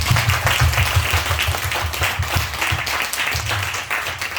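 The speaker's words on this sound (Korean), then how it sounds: "태어남을 기뻐하면서 우리 박수 한번 하겠습니다." A church congregation applauds together in a dense, continuous patter of many hands clapping, steady and fairly loud throughout with no voices.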